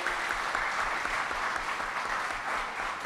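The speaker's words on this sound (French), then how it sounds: "merci public. Merci d'applaudir Saint-Louis de Gonzague" A studio audience at a televised school quiz show gives steady, sustained applause for the Collège Saint-Louis de Gonzague team, an even wash of clapping with no speech over it.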